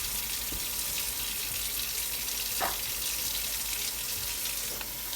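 Water pours continuously from a faucet into a sink as a Keurig water filter is rinsed under it, a steady close rushing flow with a few small splashes and clicks, no talking.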